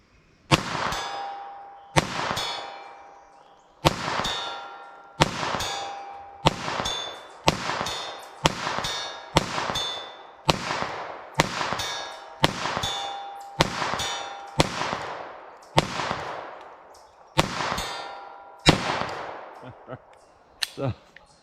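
.22 WMR rifle rounds fired in quick succession at a steel target, about fifteen sharp cracks each followed by a ringing metallic ping that decays, evenly spaced roughly a second apart.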